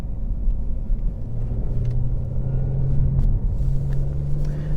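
An Audi S5 Sportback pulls away in comfort mode, its engine a steady, close low rumble that rises gradually as the car accelerates, with no voices over it.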